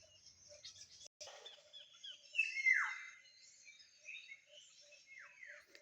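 Faint forest birds chirp and call in the distance, with a few sharper descending tweets standing out against a quiet outdoor background.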